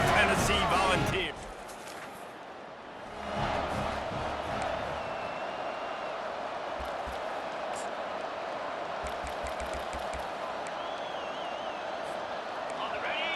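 A large simulated stadium crowd in EA Sports College Football 25 roars steadily for a Florida Gators versus Tennessee Volunteers game, with thuds and sharp whistles over the sustained din and commentary voices at the start.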